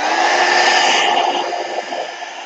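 Heat tool blowing on thick black paint to dry a mixed media art piece, a loud steady whooshing hiss of motor and air that holds constant, easing slightly toward the end.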